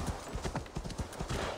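Horse hooves galloping in Assassin's Creed Valhalla, a rapid repeated clip-clop rhythm, close and steady over a background hiss.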